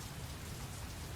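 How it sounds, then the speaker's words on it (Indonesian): Steady rain pours down in a video game, a dense, constant hiss of falling drops with no talk over it. "Ini game sering banget hujan ya, heran."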